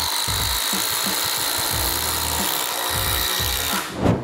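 A DeWALT compact impact driver runs steadily on speed three, a continuous close whine of the motor with rattly impact texture throughout, ending in a brief louder burst.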